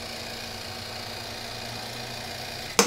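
A JVR Vac100 chamber vacuum sealer runs a cycle with a steady, loud mechanical pump drone and hum throughout, ending in a sudden sharp burst near the end.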